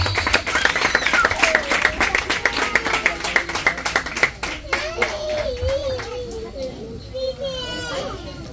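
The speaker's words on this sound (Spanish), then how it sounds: "Fuertes aplausos, hermanos." Loud rhythmic clapping from a crowd at a quinceañera party in Guatemala, mixed with children's voices and chatter, tapering off as someone speaks over the fading claps.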